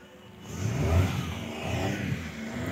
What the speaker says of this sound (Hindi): पापा यहीं पे गाड़ी लगा रहे हैं